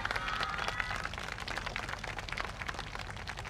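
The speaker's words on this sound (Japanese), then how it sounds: "皆さん手拍子応援の方何卒よろしくお願いします" An audience claps along in rhythm for a dance team at an outdoor YOSAKOI festival in a city park, the Michinoku YOSAKOI Matsuri 2023, producing a steady run of crisp, fairly close handclaps at moderate volume.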